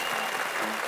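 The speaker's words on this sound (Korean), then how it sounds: "여러분 다시 한번 박수 부탁드립니다" A studio audience on a Korean TV variety show gives a brief burst of dense, loud applause.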